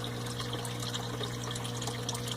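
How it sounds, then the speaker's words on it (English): A small, loud hang-on-back filter on a saltwater aquarium circulates water in a steady, continuous trickling rush with a low hum underneath, close by and alone. "Got this loud little hang on the back filter here,"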